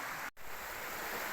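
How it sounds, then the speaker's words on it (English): Stream water rushing over steep boulders in a woodland valley, a steady broadband roar with one brief dropout near the start, close and fairly loud throughout. "The noise of the water is getting decidedly louder"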